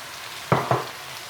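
Mushrooms, courgette and red pepper frying in a wok, turned over with a spatula. Two quick, close scraping shoves sit over a soft, steady sizzle.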